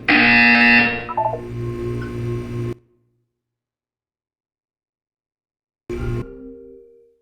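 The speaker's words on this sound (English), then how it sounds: "When you hear the buzzer, look up at the ceiling." Loud electronic buzzer in a Portal 2 test chamber blares for under three seconds and cuts off, then after a long silence a second buzz sounds briefly.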